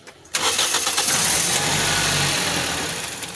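A Toyota Vios engine cranks and fires after a brief quiet moment, then runs roughly for a couple of seconds before dying away as it stalls, loud and close with no talking.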